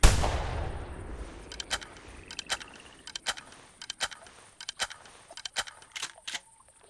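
Shotgun blasts at ducks in theHunter Classic hunting game, a string of sharp, evenly spaced reports firing roughly every half second after an opening burst, fairly close and loud with nothing else heard.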